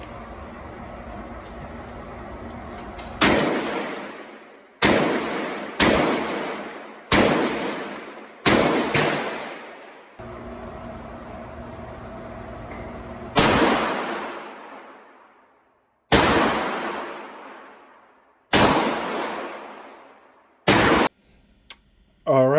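Canuck 12 gauge shotguns, Turkish-made Operator Elite and Engage models, fire about nine sharp, loud shots with irregular gaps between them, each blast followed by a short decaying echo.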